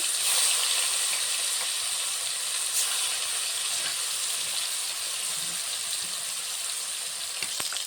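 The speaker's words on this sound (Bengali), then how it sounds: "এখানে মাছ ভাজাটা হচ্ছে" Steady, loud sizzling of fish pieces frying in hot oil, a continuous crackling hiss with occasional small pops and no talking.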